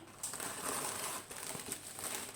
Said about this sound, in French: C'est dans du papier bulle.